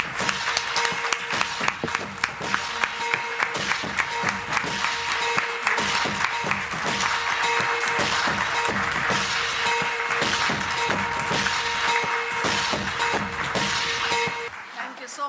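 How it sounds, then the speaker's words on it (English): An audience at a book launch for a homoeopathy text claps for about fourteen seconds, a sustained patter of many hands in a hall over a faint tone, before it fades out. "A big round of applause."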